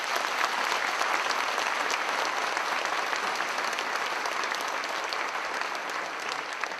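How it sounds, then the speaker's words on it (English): A seminar audience in Oslo claps hard in sustained, dense applause, loud and steady for the whole stretch with no voices over it. "Clap as hard as you can."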